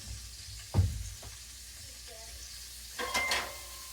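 Country fried steak frying in a hot pan on a stove turned down to medium, a steady low sizzle with a few brief clatters and stirring sounds.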